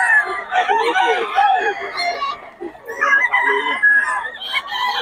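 A young rooster (stag) crows at a busy Bocaue market, its calls rising over steady crowd chatter and nearby voices that keep talking throughout.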